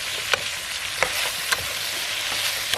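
Salted pork stir-fried in hot oil for a Chinese-style dish, with a dense, steady sizzle up close and a few sharp taps or pops scattered through it, with no voices.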